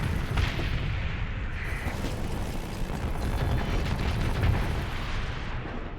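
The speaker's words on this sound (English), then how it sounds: "all the bone cannons missed, otherwise you would be dead" Ship cannons firing and shells exploding in the space combat game Starsector, a dense continuous barrage of deep booms and rumbling blasts, steady and loud throughout.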